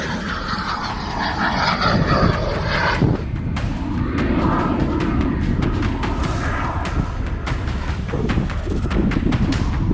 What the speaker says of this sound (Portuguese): mais um caça colide brutalmente contra o solo